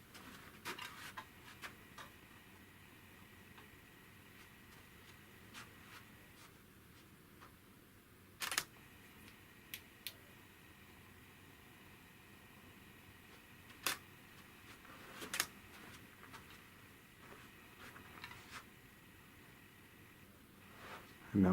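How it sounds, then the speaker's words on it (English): A Nikon D7100 DSLR shutter clicks in a quiet room, a few sharp isolated clicks spaced seconds apart over faint background hiss. "So again, to open the shutter, click. To close the shutter, click."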